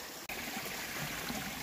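Creek water flowing over schist rock, a soft continuous trickling and gurgling heard from close by, faint and steady with one brief dip.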